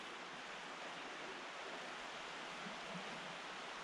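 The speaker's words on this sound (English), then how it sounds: "right next to a roaring river" A roaring river rushes through a forest gorge, a steady, dense wash of water noise that stays loud and unbroken, with no voices.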